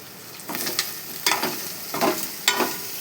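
Chicken being stirred and mixed with salt in a pan, with scraping stir strokes repeating at a steady rhythm about every three-quarter second over a faint sizzle, close and moderately loud, no talking.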